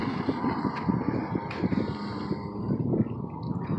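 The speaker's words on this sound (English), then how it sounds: "There's somebody there doing jet skiing." A jet ski engine runs on a big blue lake in the mountains, a steady low droning hum under wind noise, moderately distant and fairly constant.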